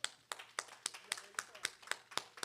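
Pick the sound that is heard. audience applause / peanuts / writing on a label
audience applause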